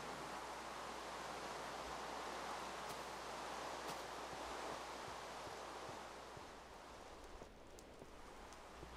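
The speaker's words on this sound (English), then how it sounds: "just the hiss of the rain on the roof" Rain hissing steadily on a roof in Minecraft, a soft even wash of noise that is fairly faint and continuous, with no talking.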